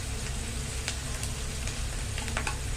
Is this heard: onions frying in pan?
yes